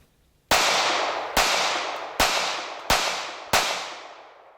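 A Smith & Wesson Bodyguard .380 pistol fires five sharp shots in quick succession, each loud crack followed by a ringing outdoor decay, with no voices.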